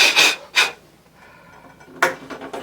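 Hand rubbing a lightly water-misted rubber bike grip, two quick swishing rubs, a quiet pause, then another brisk rubbing stroke, close and dry-sounding.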